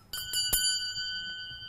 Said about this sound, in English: I will ring a bell